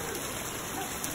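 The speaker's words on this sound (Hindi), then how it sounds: "बहुत तेज़ बारिश है।" Heavy rain pours down in a steady, even hiss, fairly quiet and continuous, with no voices over it.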